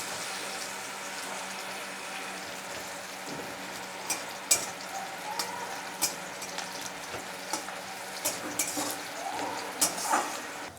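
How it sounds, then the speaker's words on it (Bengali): Onions frying in a pan until lightly reddish, with a low steady sizzle and sharper spoon clicks and scrapes coming more often toward the end. "পেঁয়াজটা আমি একটু হালকা লাল করে ভেজে নিচ্ছি।"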